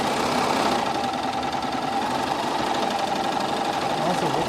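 A home sewing machine fitted with its universal foot runs in a steady fast whir with rhythmic mechanical chatter, close and continuous for a few seconds.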